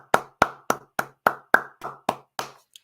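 About ten sharp hand claps in a steady, slightly slowing rhythm, close and clear with no talking.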